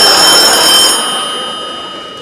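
A telephone rings with a steady electronic tone that is loud at first and then fades slightly, with no voices over it.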